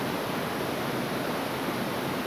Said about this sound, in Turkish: İlk defa böyle muazzam bir şelalenin altında olmak insana büyük bir huzur veriyor.